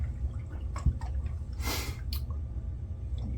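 Aftershave splashes from the bottle in one brief, bright liquid rush, followed by a smaller second splash and a few faint drips and handling sounds in a quiet room.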